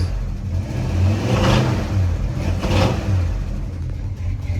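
A 1974 Dodge Power Wagon that sat unused for 15 years revs in a couple of swells over a steady deep idle rumble, close and fairly loud, with no talking.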